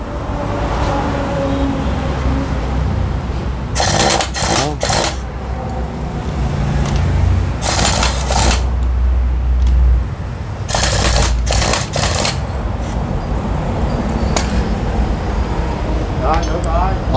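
An impact wrench fires in three loud bursts of rapid hammering on bolts of a broken-down truck carrying fish by the roadside, each burst a second or so long, between stretches of talk and idling engine.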